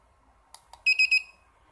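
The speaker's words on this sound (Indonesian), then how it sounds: "Dan di sebelah sana adalah indikator suara buzzer." An Arduino buzzer indicator on a counter circuit with button and LCD display gives three short, even, high-pitched beeps, preceded by a couple of faint clicks, sounding alone in a quiet room.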